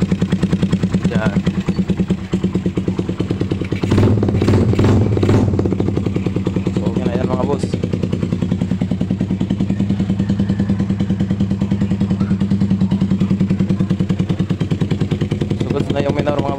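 A Raider 150 carbureted motorcycle fitted with an NLK exhaust pipe idles loud and close with a steady pulsing rumble, briefly blipped around the middle, while a voice talks over it.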